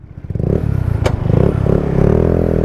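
Honda ADV 160 motor scooter ridden on a winding road, its engine a steady close hum with small rises in revs and a brief sharp click partway through, no talk.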